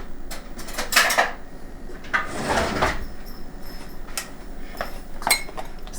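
A spoon clinks against dishes in a kitchen, several bright metallic taps in uneven clusters along with rattling and sliding knocks, all close and fairly quiet.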